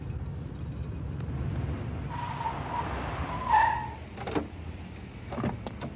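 Car braking hard and skidding to a stop, a short squealing tyre screech rising over a low rumbling engine, followed by a few faint knocks.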